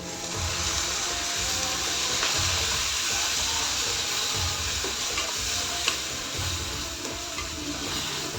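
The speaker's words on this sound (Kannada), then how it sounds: "ನೋಡಿ, ಮೊಸರು ಹಾಕ್ತಾಯಿದ್ದೀನಿ" Curd going into a sizzling bhindi masala curry in the pan, a steady loud frying hiss with recurring stirring scrapes throughout, close up and with no talking.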